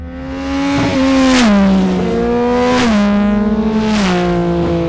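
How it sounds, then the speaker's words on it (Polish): A Triumph Speed Triple motorcycle engine revs up hard three times toward high rpm, pitch climbing and dipping in steady cycles, loud and close with no talking. "kiedy zaczniemy ten silnik wkręcać na wysokie obroty"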